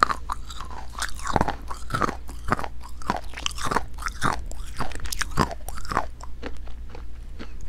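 Homemade tanghulu, candied fruit in a hard sugar shell, chewed and crunched close to the mic, with repeated loud crackling bites and wet chewing in a steady rhythm and no talking.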